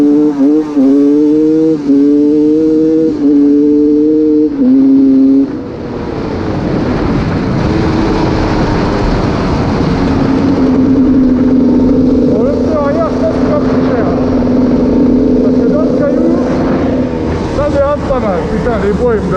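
GasGas 300 EC two-stroke dirt bike engine running off-road in woods, loud throughout, with rising and falling revs and sustained buzzing drone that steadies into a constant high-pitched tone in the second half.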